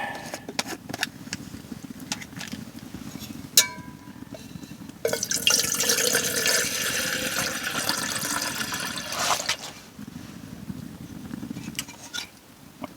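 Water poured into a pot while preparing supper inside a hot tent on a camping trip: a steady splashing pour of a few seconds in the middle, set amid quieter dripping and handling noises.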